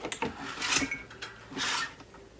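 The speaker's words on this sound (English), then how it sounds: "add a bit of a taper to it with the taper die from the Payload All" A Payload All taper die working the mouth of a 12 gauge 3-inch 00 buckshot shell, giving close, soft scraping and rasping strokes in a few short bursts.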